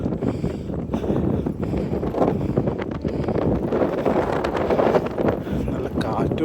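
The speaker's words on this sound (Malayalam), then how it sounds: "നല്ല കാറ്റുണ്ട്." Strong wind gusts outdoors in Belgium, a steady, loud, rough rumble buffeting the microphone for the whole stretch, with a voice faintly present underneath.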